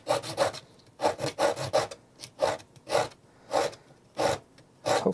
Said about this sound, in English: as I sand it, I like twist it in my fingers